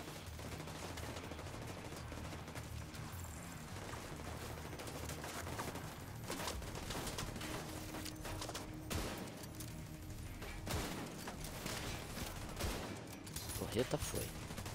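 Rapid bursts of gunfire crackle almost continuously from The Division 2: Warlords of New York, with scattered single shots and a talking voice mixed underneath.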